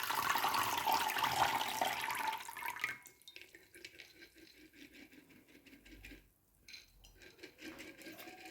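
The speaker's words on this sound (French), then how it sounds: "je transvase l'eau dans un récipient" Sprouting water from a seed jar pours into a container in a steady splashing stream for a few seconds, then thins into lighter trickles, drips and faint clinks of the vessel.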